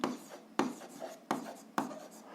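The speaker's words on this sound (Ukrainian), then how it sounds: "Записуємо відповідь, пишемо відповідь" A pen writes an answer by hand to a 7th-grade algebra exercise, making four short scratchy strokes close up, each starting sharply and then fading. Nobody talks.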